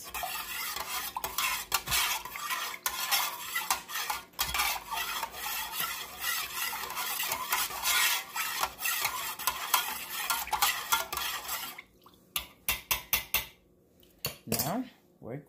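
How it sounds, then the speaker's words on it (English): A utensil stirs fragrance into melted candle wax in a pot for chunk candles, making a continuous scraping, clinking rhythm close up that stops near the end, followed by a few scattered taps. "Make sure that you stir long enough where the fragrance will totally"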